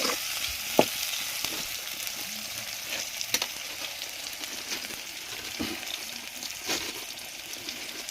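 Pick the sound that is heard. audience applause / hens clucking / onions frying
onions frying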